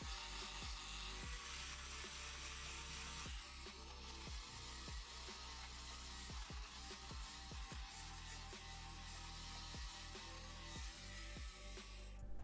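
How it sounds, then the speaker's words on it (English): A small electric fabric shaver motor whirs steadily at close range, with a run of rhythmic clicking ticks as the blades catch sock lint, no voices. "I'm using a fabric shaver from eBay."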